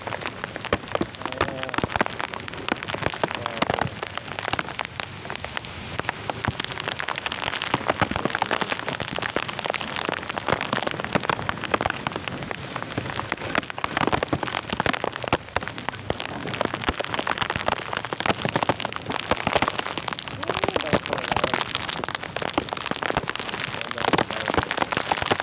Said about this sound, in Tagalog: Malakas na ulan, no?